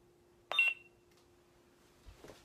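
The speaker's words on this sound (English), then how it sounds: "Mute is one hold for one beep." A single short electronic beep from a lightsaber sound board sounds once, close and clear against near silence, followed by a faint soft click.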